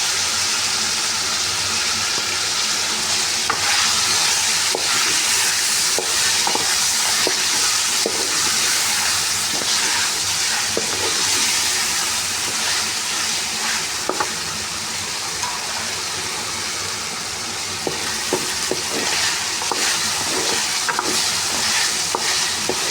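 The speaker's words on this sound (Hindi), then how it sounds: "इसी तरह से फ्राई करना है चिकन को" Chicken pieces fry loudly in a pan with a ginger, garlic and chili paste for a hot and sour soup, a steady dense sizzle with occasional stirring scrapes, close and continuous with no talking.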